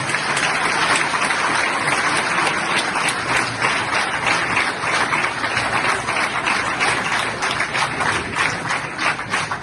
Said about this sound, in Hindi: तो पाकिस्तानियों के लिए हम सबको ताली बजानी चाहिए।